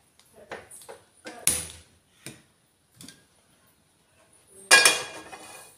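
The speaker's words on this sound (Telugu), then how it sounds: "ఇప్పుడు స్టవ్ ఆన్ చేసి ఇక కడాయి పెట్టుకొని నూనె పోసుకోవాలి." A kadai set down on a kitchen stove with oil poured in: scattered metallic clinks and knocks of the pan and utensils, separated by quiet gaps, ending in a louder clatter and a brief pouring sound.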